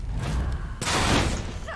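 A Far Cry 5 video game explosion: muffled thumping builds, then a sudden loud broadband blast erupts midway and fades into a rushing tail.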